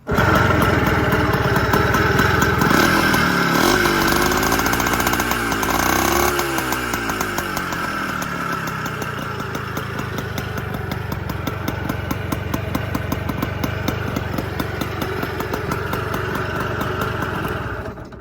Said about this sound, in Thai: เดี๋ยวเรามาฟัง เครื่องยนต์กันนะครับ